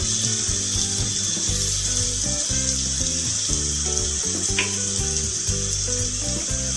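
Chicken frying in a pan for butter chicken gives a steady close sizzle, while a prominent pulsing low hum and a clink around the middle run beneath it.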